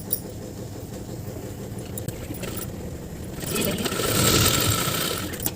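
A sewing machine runs a steady side seam on a kurta along a half-inch fold, its close mechanical whir continuous and growing louder in the second half.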